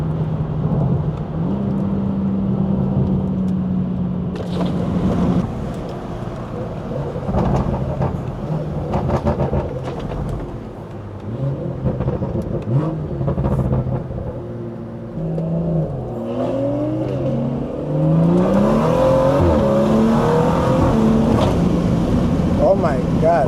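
Deep exhaust from a stage 2 BMW B58 rises and falls through several revs and shifts while driving, loud and close, with talk in the car at times and a swelling roar near the end.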